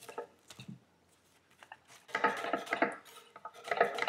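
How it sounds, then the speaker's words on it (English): A knife cuts a leek in half on a board with a few quiet taps first, then a longer burst of crisp slicing and crunching close up, ending in further cuts. "I like to cut our leek in half and then start to slice it"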